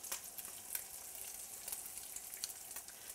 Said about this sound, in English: once my lamb is searing, I don't move it because I don't want to break up the crust